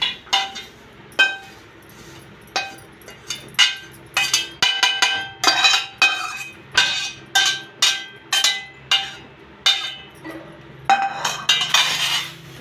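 Metal clinks and scrapes as fried drumstick-leaf powder is put onto a plate with a spoon. The taps come in short bursts at a steady rhythm, close by and fairly loud, with no talking.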